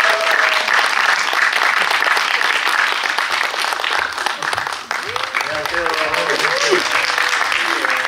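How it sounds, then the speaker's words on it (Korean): Loud, sustained applause from a theatre audience welcoming a film director and actor on stage for a post-screening talk, dense clapping throughout with a voice speaking briefly over it partway through. "여러분들 큰 박수 주시면 등장하시겠습니다"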